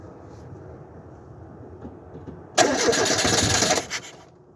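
A Renault 11 GTX engine cranks and catches after a carburetor change, starting abruptly and running rough and loud for about a second before dropping back, preceded by quiet background rumble.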